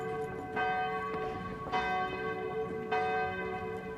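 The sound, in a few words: church bells ringing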